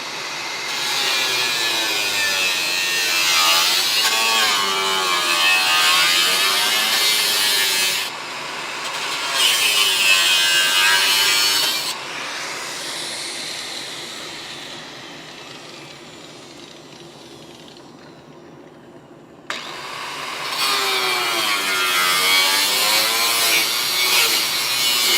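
Cutting rusted, rotted sheet metal from an old Dodge Charger crew cab body with a power tool, a steady, loud, harsh grinding whine in long passes broken by brief pauses and quieter stretches.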